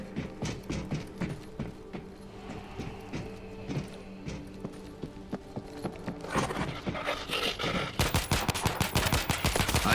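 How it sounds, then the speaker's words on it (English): Rapid machine gun fire from the World War Z zombie shooter game, Moscow level, rattles steadily and loudly, growing denser and more intense toward the end, with no talking. "Machine gun ready!"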